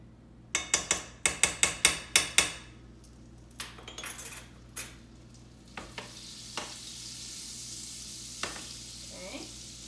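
Oil and butter are heated in a pan for a chickpea wrap. Sharp metal utensil clinks and taps come first, then a faint, steady sizzle builds and carries on.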